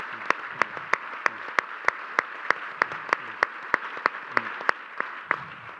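An audience at a proton therapy unit event applauds patients, a sustained wash of many hands clapping in a room, with a few sharper claps standing out at a regular pace.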